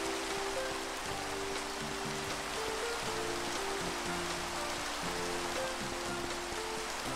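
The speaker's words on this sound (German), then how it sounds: "Den Regen stellen wir jetzt erstmal aus." Steady rain falls in a car mod video game, a dense, even hiss of drops on surfaces running throughout, with a low tonal music line beneath.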